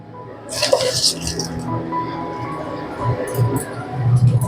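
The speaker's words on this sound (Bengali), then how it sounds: "এবার কোটোটা আমি ঢাকাটা লাগিয়ে দিলাম ভালো করে" A lid pressed onto a container in a home kitchen, a few brief clinks and scrapes at close range followed by soft handling noise.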